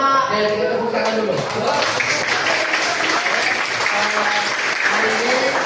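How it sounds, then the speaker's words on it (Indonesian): Students in a university teaching-practice classroom clap their hands together, loud, dense applause close by, mixed with excited voices and calls rising over the clapping the whole time. "Oke, kita tepuk tangan dulu."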